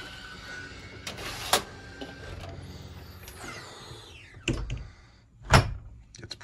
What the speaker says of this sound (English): you can see if we close the door really quick